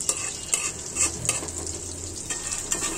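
Marinated chicken frying in oil over a low flame, a continuous close sizzle broken by repeated scraping and stirring strokes, with no talking.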